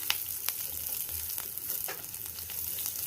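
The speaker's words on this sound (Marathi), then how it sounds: "कांदा मला असा कच्चा आवडतो. असं परतायचं" Onion sautés in a pan with a constant close sizzle, broken by light scraping ticks from a spatula stirring the pieces.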